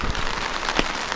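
Monsoon rain falls in a Konkan village near a Ram temple, a close, steady hiss of drops on surfaces with a couple of sharper patters standing out.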